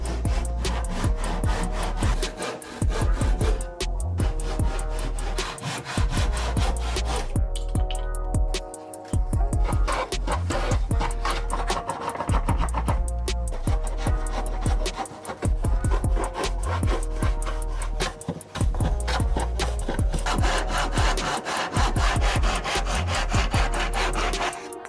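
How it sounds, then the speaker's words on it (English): A hand saw cuts the excess wood from the nose block of a hollow wooden surfboard in rapid, rhythmic back-and-forth strokes that are close and steady, with brief pauses between bursts. "Now it's time to trim off the excess and shape the nose of the board."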